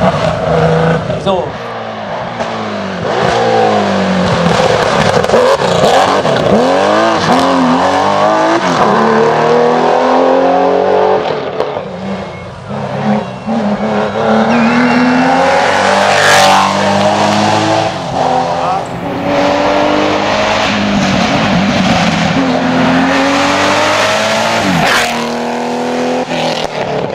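Porsche race car with a 6.3-litre engine at the Rossfeld hill-climb race, loud and close, revving hard through repeated rising gear sweeps and passes, with someone speaking over it throughout.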